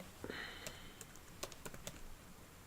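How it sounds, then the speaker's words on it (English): Faint keystrokes on a computer keyboard, scattered irregular taps and a few quick bursts over a hissy background, quiet and close. "Trying to resize the screen as I was typing there."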